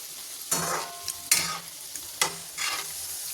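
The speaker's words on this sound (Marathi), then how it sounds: "आता आपण त्या खालीवर परतून घेऊया" Wheat flour and jaggery shankarpali fry in hot oil in a pan while being turned over, a steady close sizzle broken by several loud scraping stirs of a spoon against the pan.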